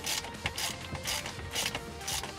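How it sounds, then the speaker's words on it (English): A half-inch socket wrench tightens the bolts on a Lippert Ground Control 3.0 landing gear jack, giving a steady run of rapid ratcheting clicks in five or six bursts. The clicks sit close and loud, with no voice. "this is where you need that half inch wrench or socket to tighten these up good."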